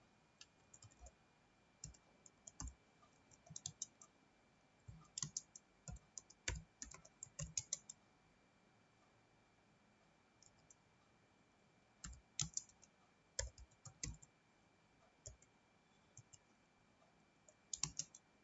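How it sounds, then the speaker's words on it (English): Someone types an HTML program in Notepad on a computer keyboard, quiet close key clicks in irregular bursts separated by pauses, with no voices. "and now we'll type the program."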